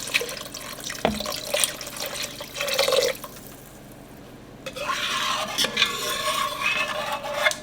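Beef broth pours into a pot for Southern-style green beans and potatoes, heard as bursts of splashing, gurgling liquid with a sharp clank of cookware near the start, close by and without speech.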